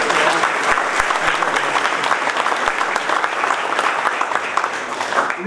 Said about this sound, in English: Let's give all of our legislators a round of applause.